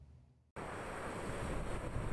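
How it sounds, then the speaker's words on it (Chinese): Typhoon Haikui on Taiwan's southeastern coast brings strong wind and heavy rain, which burst in abruptly after a quiet half second and then roar loudly and steadily, gusting toward the end. "狂风裹挟着暴雨呼啸而过"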